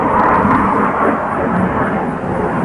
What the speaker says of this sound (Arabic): ها هي الطائرة